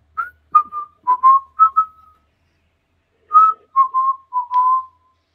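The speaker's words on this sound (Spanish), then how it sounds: "esa voz que ahora se torna un silbido" Melodic whistling in two short phrases separated by a pause, clear and close, with no other sounds around it.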